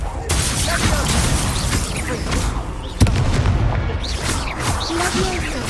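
A Confringo fire spell blasts in Hogwarts Legacy combat, with deep booming explosions and a sharp impact midway over a constant rumble of battle effects, and a voice calling out between blasts.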